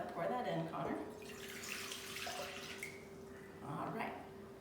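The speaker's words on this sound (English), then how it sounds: "the first thing that we'll do is pour a cup of water in our bowl" A cup of water poured into a big bowl while making oobleck, a soft splashing pour heard faintly beneath people talking nearby.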